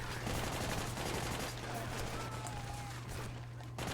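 A mounted gun firing in the game Army of Two: The 40th Day, a dense continuous rattle of automatic fire over a low steady hum, loud and unbroken throughout.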